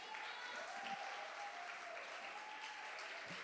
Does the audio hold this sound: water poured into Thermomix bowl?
no